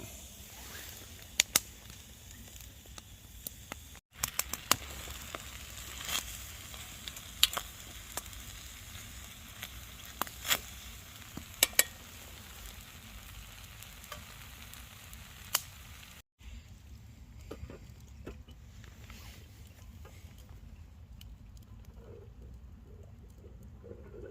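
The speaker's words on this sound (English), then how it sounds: "So as soon as these peas have warmed up, we'll put the stew back on" Peas warming in a pan at a woodland camp give a faint, steady sizzle with scattered pops and crackles, quiet and continuous throughout with no talking.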